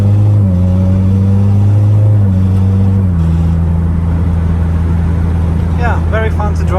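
A Mazda MX-5 with a DCT gearbox and HTG-tuned GCU standalone engine management accelerates hard, its engine droning loudly and close with audible gear changes. A voice speaks briefly near the end.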